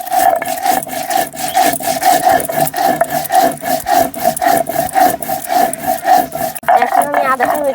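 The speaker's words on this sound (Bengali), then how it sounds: "এখন আমি আদাটা বেটে নিচ্ছি।" Ginger is ground into a wet paste with water on a flat grinding stone, producing steady rhythmic back-and-forth rasping strokes, close and fairly loud, repeating evenly throughout.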